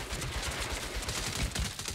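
Sustained automatic gunfire in Saints Row, dense rapid shots rattling continuously and loudly throughout with no pauses.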